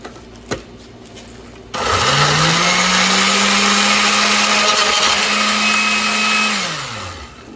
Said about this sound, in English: Now the blender makes a god awful thing.